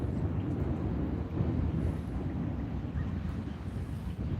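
Steady wind gusting across the water while fishing outdoors, a continuous low rushing roar with buffeting against the microphone and no talking.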